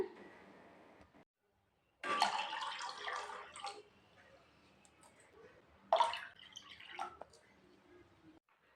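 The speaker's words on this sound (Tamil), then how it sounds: "மூணு கப்பு தண்ணி ஊற்றிக்கலாங்க" Water is poured into churned curd in two short splashing bursts, separated by a quiet pause.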